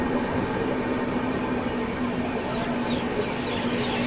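The West Bengal Sampark Kranti Express pulls out of Parasnath, heard from on board as a steady, loud, continuous rumble with a low droning hum and no distinct clacks.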